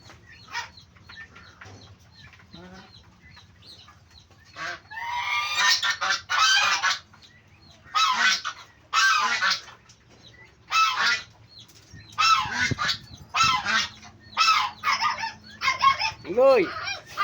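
Geese and turkeys calling together in a farmyard, a run of loud honking bursts in irregular clusters, near and overlapping, with a quiet stretch at the start and a few human shouts mixed in.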